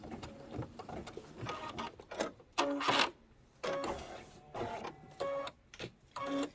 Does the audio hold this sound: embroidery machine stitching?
yes